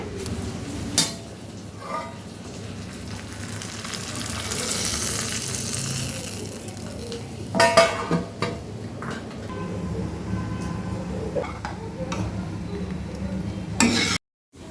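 Tempering is stirred into ragi idli sambar on a switched-off stove: a soft, steady sizzle and bubbling with occasional scraping and clinking of a spoon against the pot.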